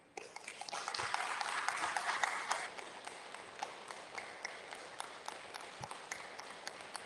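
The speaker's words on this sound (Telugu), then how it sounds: "ఒకసారి క్లాప్స్ కొట్టండి" Audience at a morning gathering clapping in a hall, a dense burst of applause that swells for a couple of seconds, then trails off into scattered individual claps.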